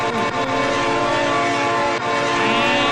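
A train in BeamNG.drive, set against a bus, sounds its horn in a loud, sustained harmonic blast that holds throughout over a steady rolling rumble of the rail cars.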